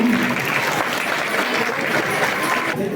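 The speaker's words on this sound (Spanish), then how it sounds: "vamos a recibir con un fuerte aplauso a los niños del CDI Santa Teresita" A crowd gives a strong round of applause welcoming children from a childcare center at a community event, continuous dense clapping at steady loudness throughout.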